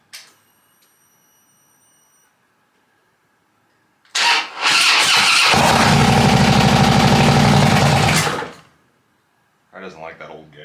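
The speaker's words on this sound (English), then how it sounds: "All right, battery's in. Let's see if it'll fire up." A motorcycle with a freshly installed battery cranks and catches, a brief starter whir followed by a loud steady engine run of about four seconds that then dies; a voice comes in afterward.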